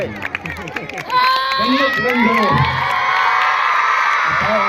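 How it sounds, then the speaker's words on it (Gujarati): At a Republic Day school function, a crowd of children and adults erupts into loud, sustained cheering, whooping and shouting that swells and holds after a short stretch of speech. "જોરદાર તાળી"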